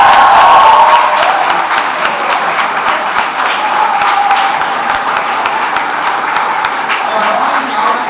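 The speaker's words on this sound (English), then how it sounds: "So I want to round of applause for Nishant." Sustained applause from a crowd at a student awards event, dense and steady clapping throughout, with faint cheering mixed in.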